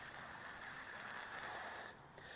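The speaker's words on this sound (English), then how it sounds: "then you're going to exhale using a hissing sound like this" A slow, steady hissing exhale during a breathwork exercise, sustained close and even for about two seconds before it cuts off abruptly.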